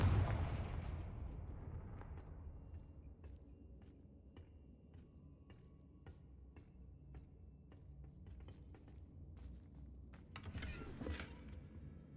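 A Confringo fire spell explosion in the Hogwarts Legacy video game bursts loudly at the start and rumbles away into a long fading tail, followed by scattered clicks, creaks and a second brighter crackle near the end.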